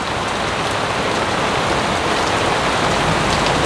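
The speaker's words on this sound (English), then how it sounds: "It's hailing ice balls in the Bahamas." Steady, dense patter of hail striking a sailboat during a cold squall while sailing from the Bahamas toward Florida, a loud continuous hiss of impacts with no pauses and no voices.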